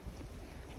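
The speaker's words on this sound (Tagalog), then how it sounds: "Ay, hangin jud." Strong wind outdoors, a faint low roaring buffet on the microphone that stays even and unbroken through the short moment, alone with no voices.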